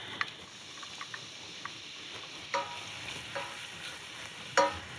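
Finely chopped onion sautés in hot olive oil in a pot for pilaf, giving a soft steady sizzle broken by a few sharp scraping stirs of a spoon, with no talk.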